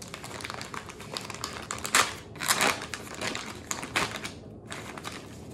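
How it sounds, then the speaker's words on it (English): A central line dressing kit package is peeled open from the end opposite its white peel-away tab, making close, crisp crinkling and tearing bursts that come in uneven clusters over several seconds. "you're gonna open up your package and you're gonna open it at the opposite end"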